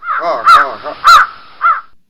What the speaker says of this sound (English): That's a crow. That's a crow.